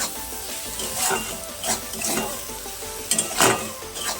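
Spice masala for an egg curry fries in a pan, with several scraping stirs breaking through a steady sizzle at close range and no talking.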